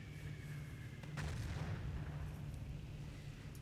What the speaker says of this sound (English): Oh, I heard that sniper.